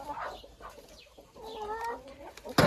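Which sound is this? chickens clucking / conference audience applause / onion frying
chickens clucking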